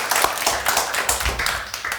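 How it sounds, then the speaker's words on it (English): Audience giving a round of applause at the end of a storytelling event, dense continuous clapping close by and fairly loud for a couple of seconds. "Let's give a round of applause."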